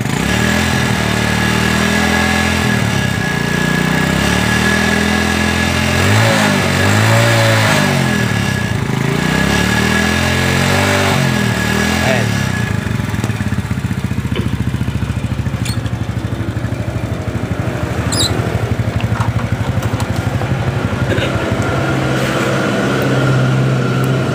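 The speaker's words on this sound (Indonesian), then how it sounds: "saat kunci kontak on, terus kita selah. Nah, gaspol." A Yamaha Jupiter motorcycle with an intermittent ignition fault is kick-started and revved, a near, continuous mid-pitched engine note that rises and dips through several throttle blips with no talking.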